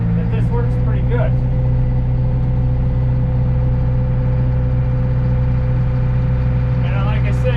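A tractor creeps slowly through deep snow in winter, its engine holding a steady low drone throughout, with a person talking over it.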